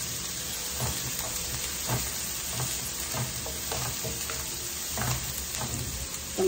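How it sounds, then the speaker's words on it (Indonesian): Garlic, onion and ginger sizzle in a hot pan, with a steady frying hiss broken by regular scrapes and knocks of stirring, close and fairly loud, no talking. "Pertama-tama kita goreng dulu bawang putihnya. Dan kita goreng juga bawang bombenya"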